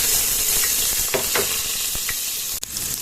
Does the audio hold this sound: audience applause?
no